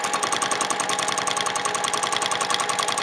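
A sewing machine stitching free-motion quilting on a jelly roll quilt, with a fast, steady mechanical rattle of needle strokes, close and continuous, with no talking.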